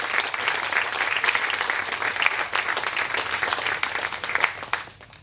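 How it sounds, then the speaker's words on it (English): Sustained applause from a wedding crowd honoring the groom's father and grandfather, dense steady clapping lasting several seconds before tapering off at the end. "just want a big round of applause for Dad and Papa"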